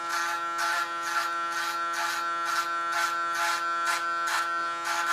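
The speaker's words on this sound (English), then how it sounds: "there I go in with my clipper" Electric hair clippers buzz steadily up close, with a rhythmic swishing as they pass repeatedly through thick hair during a bob haircut.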